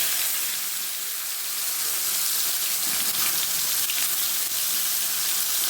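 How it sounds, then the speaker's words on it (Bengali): Ridge gourd pieces fry in hot oil with panch phoron, giving a loud, steady hiss and crackle that fills the whole stretch without pause and without talk. "ঝিঙেগুলো এবারে তেলে আমি দিয়ে দিচ্ছি।"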